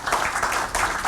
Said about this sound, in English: I think this needs an applause.